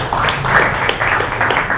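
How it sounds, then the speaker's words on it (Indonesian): An audience claps for a speaker at a talk-show style gathering, a brief burst of applause with uneven clapping and a faint murmur of crowd voices underneath. "Tepuk tangan buat Bapak dulu."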